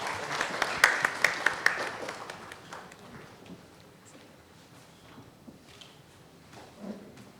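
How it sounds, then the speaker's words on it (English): An audience gives a round of applause for the speakers at a Constitution Day panel event, with the sharpest clapping in the first couple of seconds before it thins out and fades. "A huge round of applause."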